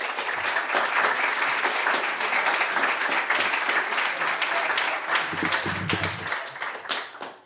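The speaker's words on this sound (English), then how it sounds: "So please give him a big round of applause." An audience applauds a speaker at an institute talk, steady dense clapping held for several seconds before tapering at the end.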